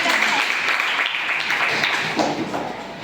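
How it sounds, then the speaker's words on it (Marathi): Children at a primary school quiz competition clap together in steady, dense applause that holds up close for the full few seconds, with faint voices mixed in beneath it. "अक्षरासाठी पण एका टाळ्या"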